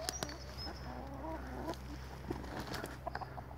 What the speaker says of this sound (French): voilà des poules heureuses en train de gratter dans l'herbe